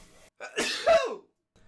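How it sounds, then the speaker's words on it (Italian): A single close sneeze, a sharp inhaled buildup followed by an explosive burst, in an otherwise quiet room. "uno starnuto."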